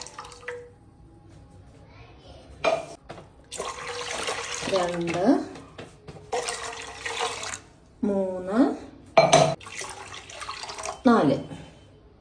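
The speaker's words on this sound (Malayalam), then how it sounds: "അതിലേക്ക് നമ്മൾ 4 കപ്പ് വെള്ളം ഒഴിക്കണം" Cups of water poured into measured rice for payasam in a home kitchen, coming as short splashy bursts between stretches of a person talking.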